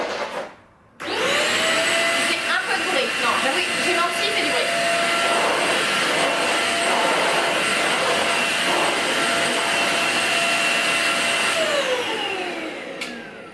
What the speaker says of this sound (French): c'est un plaisir de passer l'aspirateur avec cet aspirateur